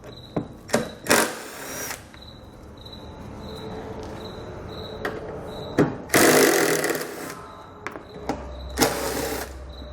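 Power driver backing out T27 Torx screws along the weather-stripping edge of a 2018 Ram ProMaster City, with short whirring bursts separated by quieter handling and clicks, close and fairly loud.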